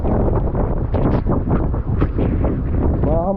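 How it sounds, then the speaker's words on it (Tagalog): Heavy typhoon wind roaring and buffeting the microphone continuously during Typhoon Uwan, loud and close, with faint voices partly buried underneath. "Tindi ng hangin."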